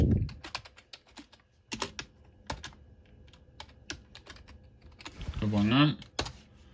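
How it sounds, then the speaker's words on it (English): Keys clatter on a computer keyboard as a username is typed while setting up a Lenovo IdeaCentre K330B desktop, bursts of quick taps with pauses between, and a louder rustle near the end. "Then just type a username."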